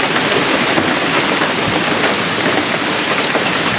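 Heavy rain pours onto a small cottage at an island campsite on Kalanggaman, a loud, dense, continuous hiss of drops drumming on the surface with no voices.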